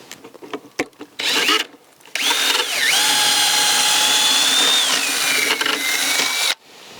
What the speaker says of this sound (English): we're just going to drill a hole through the back of the box to the other side of the